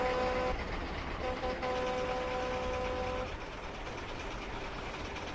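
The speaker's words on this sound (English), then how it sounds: "His horn sounds like something that belongs on a tractor trailer, though, not a train." A shunting locomotive's horn in a train video game, a loud, truck-like steady tone sounding twice over a continuous rumble of engine and rolling noise.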